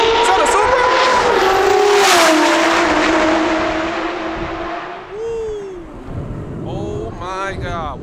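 A Toyota Supra race car accelerates hard at a drag event, its loud engine revs climbing through gear changes before fading away into the distance, while people talk excitedly nearby.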